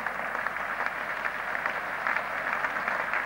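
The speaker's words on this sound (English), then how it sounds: "Applause for Barry Wood and for Thompson." Cricket crowd at Lord's during a 1975 England v Australia Test match applauds a dismissed batsman, a steady distant wash of clapping across the ground, heard on an old broadcast.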